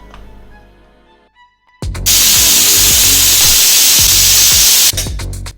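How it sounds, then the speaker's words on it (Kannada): A pressure cooker on the stove, cooking avarekalu methi pulao, lets off a loud, sustained steam whistle that cuts in abruptly and hisses steadily for about three seconds before breaking into shorter bursts. "ಕುಕ್ಕರ್ ಲಿಡ್ ಕ್ಲೋಸ್ ಮಾಡಿ 2 ವಿಷಲ್ ಕೂಗಿಸ್ಕೋಬೇಕು"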